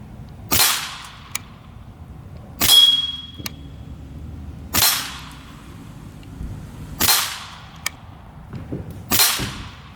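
Pellets from an Air Venturi Alpha PCP air rifle strike a target in five sharp, evenly spaced impacts about two seconds apart, each with a short metallic ring, over quiet outdoor background.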